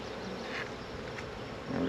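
Honeybees buzz around an opened hive, a steady close drone holding through the whole moment with light handling sounds.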